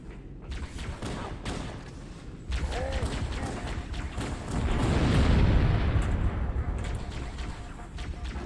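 An explosion in the video game Halo gives deep, rumbling broadband blasts that swell at about two and a half seconds and build to a heavier roar midway, layered over ongoing in-game noise.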